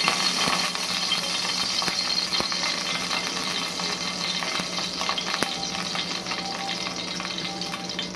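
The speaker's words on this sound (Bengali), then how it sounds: "এই তেলের মধ্যে ডিমের ব্যাটারটা দিয়ে দেবো।" Egg batter sizzles steadily in hot white oil in a pan, a dense, even crackle that runs the whole time with faint scraping and clinks on top.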